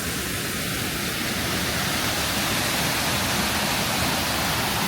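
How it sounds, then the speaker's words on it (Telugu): Waterfalls in Germany's Black Forest roar as a loud, unbroken broadband rush, close and constant for the whole stretch with no talk. "ఇక్కడే ఉన్నాయి వాటర్ ఫాల్స్ అన్నీ"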